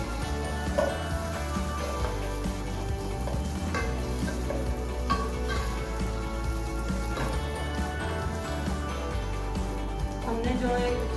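Seviyan vermicelli frying in a pan for a sweet dish, a continuous soft sizzle and crackle under steady background hum, fairly quiet throughout.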